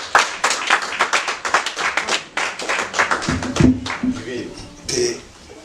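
A congregation at a church service claps for Jesus in quick, uneven bursts of hand claps that fade into talk and a brief cough-like sound.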